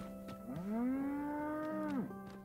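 A single long cow moo from a cattle animal in the video game Dragon's Dogma 2, rising then holding steady before dropping off, loud and close, with faint background game sounds.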